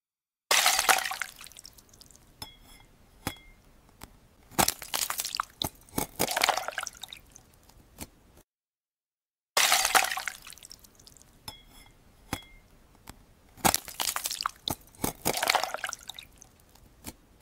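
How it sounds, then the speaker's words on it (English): A wine glass in an AI-generated ASMR piece: close, crisp glassy clinks, taps and splashy crackles, with bursts of shattering-like texture, repeated in two near-identical passages separated by a short silence, no voices. "And then we have this one of a wine glass."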